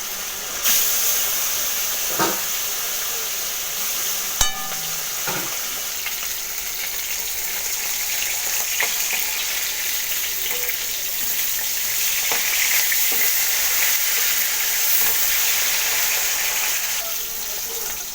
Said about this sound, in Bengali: কড়াইতে তেল দিয়ে গরম করে মাছ হলুদ গুঁড়ো দিয়ে মাছগুলো ভেজে নেব ভালোভাবে